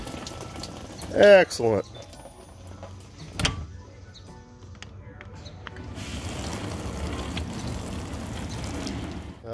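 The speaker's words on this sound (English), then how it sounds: "Now that it's switched over to the wash cycle, y'all can hear it." A dishwasher starts its wash cycle. A person speaks briefly and a sharp clunk sounds, then a steady rush of spraying water and a pump hum rise and continue at moderate level.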